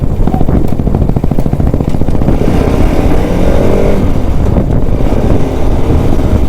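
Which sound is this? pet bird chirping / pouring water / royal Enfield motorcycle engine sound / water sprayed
royal Enfield motorcycle engine sound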